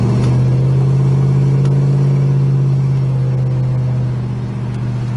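A 1969 Plymouth GTX convertible cruising along a road, its engine giving a steady, loud, low rumble with a slight rise and settle, close by and uninterrupted, with no voices over it.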